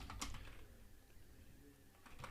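Quiet, close computer keyboard typing of a terminal command, a short burst of keystrokes at the start and another near the end with a pause between.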